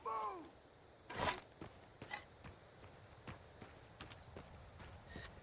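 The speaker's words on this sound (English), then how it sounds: "I might ride on my horse a little bit." Horse hooves in the Mount & Blade 2 Bannerlord video game clip-clop faintly in a steady, evenly spaced beat, with one louder thud early on.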